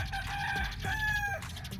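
A yellow-legged Sweater Gilmore gamefowl rooster on a game farm gives a brief, moderately loud crow with clucking, heard alone at close range.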